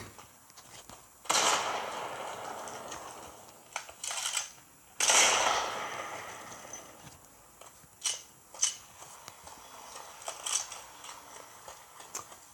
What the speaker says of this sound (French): Et hop, grenade.